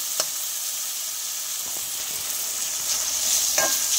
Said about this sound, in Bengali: ভালো করে এটা তেলের মধ্যে ভেজে নেব।